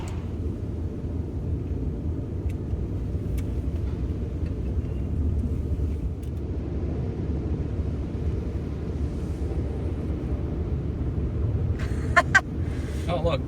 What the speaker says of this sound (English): It's the car wash.